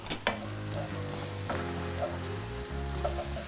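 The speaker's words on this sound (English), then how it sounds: "We've got 200 grams of oyster mushrooms, slice them nice and fine, and we're gonna fry them off." Sliced oyster mushrooms fry in a pan, a steady close sizzle with a few sharp scrapes and stirring knocks, loud and continuous, with no talking.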